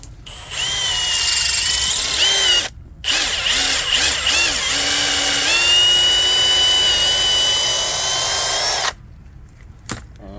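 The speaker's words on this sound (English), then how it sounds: "it just goes on your drill, you put it on, you spin it, it gets really hot" Loud power drill spinning a swage tool on copper tubing, whirring up to speed, briefly stopping and restarting, with the pitch rising and holding as it spins under load, then cutting off.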